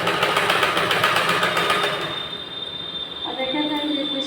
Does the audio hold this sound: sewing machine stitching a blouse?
yes